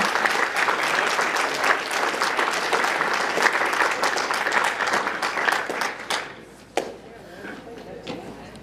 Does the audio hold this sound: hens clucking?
no